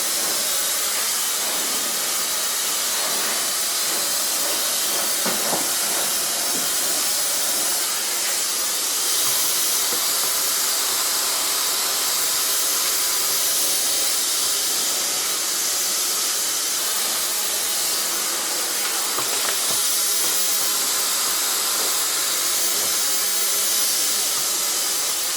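A hair dryer blows steadily throughout a long blow-dry after a bob haircut, a loud, constant airy hiss with no breaks.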